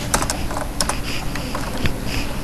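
Quick bursts of typing on a computer keyboard while C++ code is entered, key clicks in uneven clusters, close and clear with no talking.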